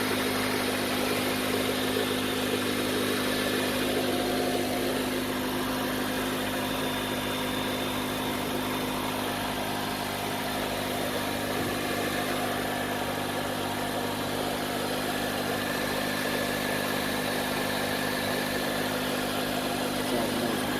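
A 2004–2008 Acura TSX engine runs at a steady idle after being started, a constant close mechanical hum with an even drone that holds unchanged throughout, with no talking over it.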